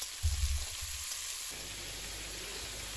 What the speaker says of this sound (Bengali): তো এটাকে এবার ভালো করে আমি ভেজে নেব।